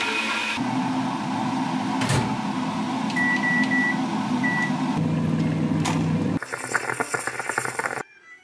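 A microwave oven heats hemp milk with a continuous hum, a few short beeps, and a door or latch clatter near the end before the motor cuts off.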